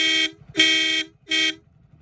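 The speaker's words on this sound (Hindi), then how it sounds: "ये है इस बाइक का कुछ डबल हॉर्न जो भाई ने लगवा रखा, तो बजा के देखते कि कैसा" An aftermarket double horn on a Hero Splendour Plus motorcycle honks three times, loud blaring, train-like bursts with short gaps, close by, with a faint engine hum underneath.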